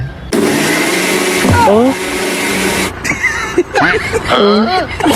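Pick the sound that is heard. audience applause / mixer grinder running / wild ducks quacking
mixer grinder running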